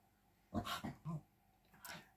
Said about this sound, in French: je suis désolée si vous entendez du bruit, c'est mon chien.